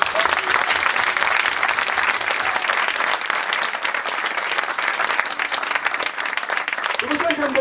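A church congregation in Torcy applauds, the clapping loud, dense and unbroken for the whole stretch, with a few voices mixed into the crowd noise.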